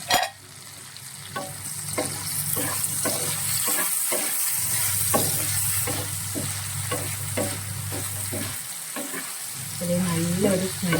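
Green chillies, garlic and okra fry in a pan with a strong, continuous sizzle, while stirring adds rhythmic scrapes and taps throughout.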